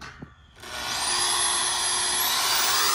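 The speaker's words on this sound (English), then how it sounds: "This is a straight up classic Milwaukee bandsaw with a 5-inch cutting capacity" A classic Milwaukee bandsaw with a 5-inch cutting capacity and a metal-cutting blade, cutting metal for a solar panel ground mount. After a brief quiet start it rises into a loud, steady, close grinding whine that holds to the end.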